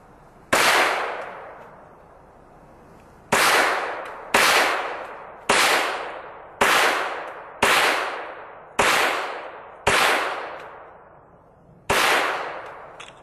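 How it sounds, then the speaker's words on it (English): CCI Quiet .22 rounds fired from a semi-automatic rifle into clay and a backstop: eight sharp cracks with brief decaying tails, the first alone, then a steady string of six shots about a second apart, and a final one after a pause. "I'm going to fire the first round into the clay again, and the rest will go into the backstop."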